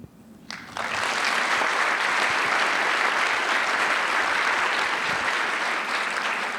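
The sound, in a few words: audience applause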